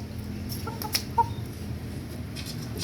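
A young chick clucking softly, giving a couple of brief peeps and small taps over steady background noise, close but faint, with no talking.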